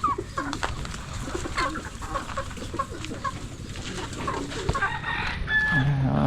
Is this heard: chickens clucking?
yes